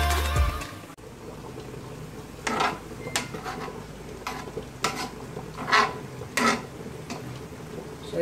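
Coconut milk being stirred continuously in a pan while cooked down into latik for Isabela dendelot, heard as a series of spaced scraping, stirring strokes over a low steady background, with no talk.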